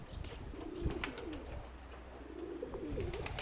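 Pigeons coo softly at home in a loft, with low repeated calls and a few faint chirps in a quiet room.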